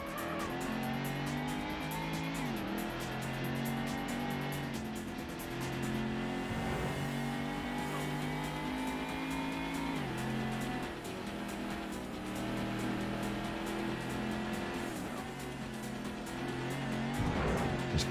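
Ford Mustang race car in the Ford Racing video game, its engine note climbing and dropping through repeated gear shifts, with brief tire squeals, all loud and continuous.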